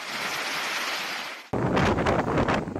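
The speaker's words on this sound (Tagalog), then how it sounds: "Bumubuga ang lakas ng hangin." Strong storm wind with heavy rain in Gonzaga, Cagayan, Philippines roars and buffets loudly, with gusts battering close by and rising sharply halfway through; no voices are heard.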